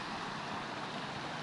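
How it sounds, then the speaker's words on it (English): Road traffic rumbles steadily past a moorland path with a small brook, a continuous broadband wash of passing cars at moderate distance with no voices. "I wish the bloody cars would go away."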